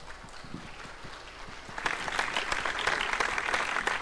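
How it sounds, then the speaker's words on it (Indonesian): Audience applause at an Islamic Digital Day talk show, starting as scattered claps and swelling into fuller, steady clapping from a crowd in the second half. "Tepuk tangan dulu dong."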